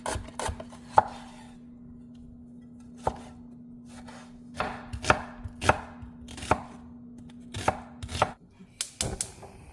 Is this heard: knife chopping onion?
yes